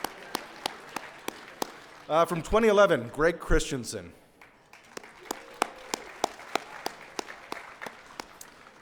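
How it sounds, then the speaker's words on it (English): A small audience at a building-industry volunteer awards event gives sparse, evenly spaced handclaps for past chairs. A lone voice briefly announces over the room midway, then the scattered clapping resumes alone. "Okay, we can clap for each one"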